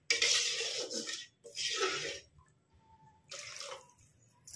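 Water splashes and pours in a few short bursts into a metal pot for fish curry, with quiet pauses between and faint clinks of cookware.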